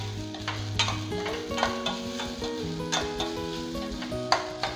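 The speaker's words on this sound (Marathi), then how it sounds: "1 मिनिटभर आपण परतून घेऊया।" Coconut chutney sautés in a pan with a soft, steady sizzle as a spoon stirs it, giving light scraping taps at irregular moments, quiet and close with no talking.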